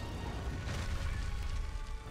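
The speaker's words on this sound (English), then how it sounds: "You want to keep an eye out on where the explosions are." Explosions from the monster Uragaan in the video game Monster Hunter World, a dense low rumbling blast with crackling debris, continuous and fairly faint beneath game background sound.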